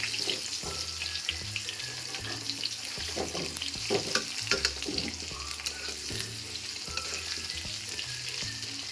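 Cut potato pieces fry in oil with cumin and bay leaf, a continuous close crackling sizzle broken by repeated scraping and stirring strokes, with soft music underneath and no talking.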